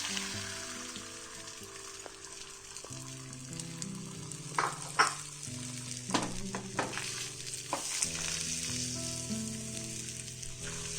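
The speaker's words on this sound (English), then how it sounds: "Once the oil heats in the pan," Whisked eggs fry in hot oil in a pan, giving a steady close sizzle and crackle with scattered pops and a few utensil scrapes, with no voices.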